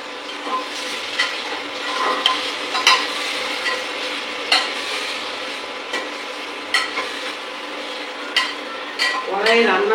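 Spices such as cumin and turmeric powder fry in hot oil in a kadai wok, with a steady sizzle broken by repeated sharp scraping strokes of a spoon stirring the pan.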